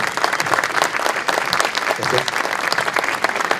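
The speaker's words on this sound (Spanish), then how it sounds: "ahora un fuerte aplauso por favor para Franco." An audience at a technology talk applauds steadily, a dense burst of clapping that stays loud and even throughout.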